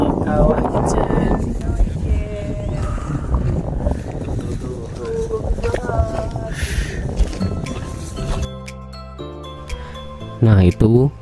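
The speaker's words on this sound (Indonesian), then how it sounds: "Suara angin gemuruh, kemudian ya anginnya agak kencang, suasana dingin juga." Strong wind roars and gusts across the Kawah Ijen volcanic crater, a loud continuous rush with fluctuating intensity, joined by jingling and other sounds near the end.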